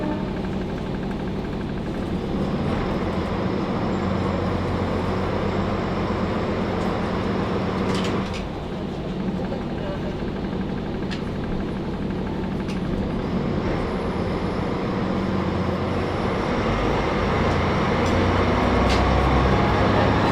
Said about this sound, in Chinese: 不知道各位听到这个发动机声有没有一种乘坐大巴车的感觉？